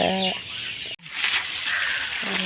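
A turkey clucks and squawks close by in a village, a few harmonic calls at the start and end with a noisy flurry of clucking between, no talking.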